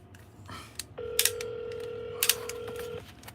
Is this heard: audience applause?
no